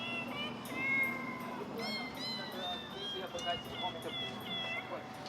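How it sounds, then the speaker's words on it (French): Several cats in a Taipei suburb meow in rising, wavering, almost sung phrases that overlap one another, fairly faint over a noisy outdoor background. "Une musique chantée par les chats."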